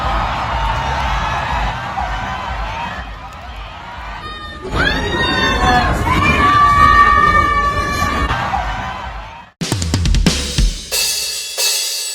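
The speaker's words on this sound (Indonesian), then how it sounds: "teriakan tersebut teriakan bawa kembali Megawati Ko Hye-jin, bawa kembali Megawati" A crowd of Red Sparks women's volleyball fans in South Korea shouting and cheering as a mass of voices, loud and continuous with rising whoops, then breaking off into a few sharper bursts near the end.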